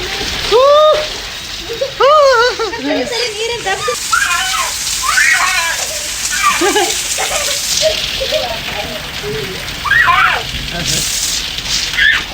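Steady rain hisses in the background while several people talk and exclaim over it.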